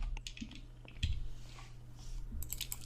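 Soft, sparse clicks of a computer keyboard being typed on, faint and close, over a low steady hum.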